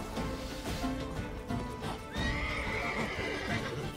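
Geralt's horse Roach in The Witcher 3 neighs loudly and gallops with steady clip-clop hoofbeats, set against game combat sounds and music.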